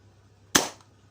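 A Worker Cheetah 2.0 foam dart blaster fires a single shot, heard up close as one sharp, loud pop that fades quickly into quiet.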